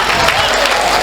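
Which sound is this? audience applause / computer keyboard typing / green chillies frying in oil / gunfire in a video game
audience applause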